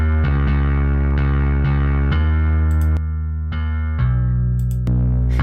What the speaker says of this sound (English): This distortion is not on the track.